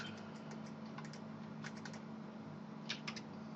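Soft tapping on a computer keyboard, a few scattered keystrokes in small clusters, faint and close over a steady low electrical hum.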